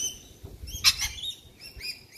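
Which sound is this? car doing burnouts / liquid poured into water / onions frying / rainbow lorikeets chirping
rainbow lorikeets chirping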